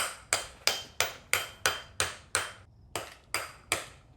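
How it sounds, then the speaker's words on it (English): A 3-pound Milwaukee sledgehammer pounds an extension while prepping a car for drifting during a differential swap: eleven sharp, bright metallic strikes in a quick steady rhythm, close and clear, with a brief pause midway and no talking. "With the biggest sledgehammer you have."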